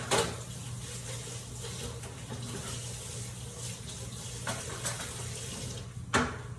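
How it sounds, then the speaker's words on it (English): A kitchen tap runs steadily while a cutting board is washed in the sink, a constant close rush of water with a few faint knocks of the board against the basin. "And also wash up our cutting board."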